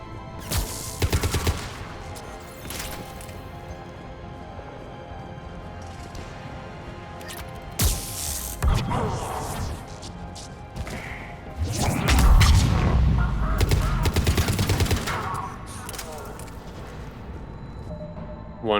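Gunfire in the video game Mass Effect 3, scattered shots and bursts mixed with heavy booms and thuds, building to a louder clustered barrage near the end.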